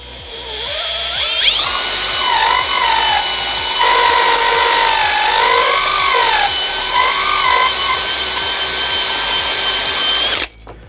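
A power drill with a 12 mm bit drilling metal, on a Mini Cooper S Cabrio rear subframe job, whines at a high, steady pitch for about ten seconds, its tone wavering as it bites in, then stops abruptly.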